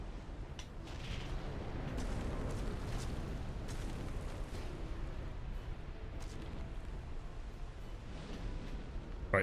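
A boss unleashes a laser attack in Dark Souls 2, a sustained rumbling blast with crackling bursts layered over it, swelling early and then fading slightly.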